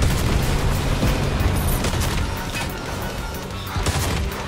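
A loud, rumbling grenade blast in Fortnite rolls on for several seconds, a dense booming wash with faint crackles and no talk.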